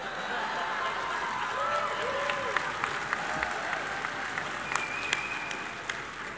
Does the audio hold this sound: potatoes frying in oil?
no